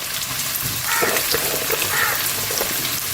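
Chopped onions and green chillies sizzling in a hot pan, a dense, steady crackle with little rise and fall, close and alone.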